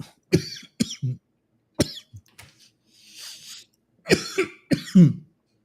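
A series of harsh coughs in separate bursts, some single and some in quick pairs, close up with short quiet gaps between them.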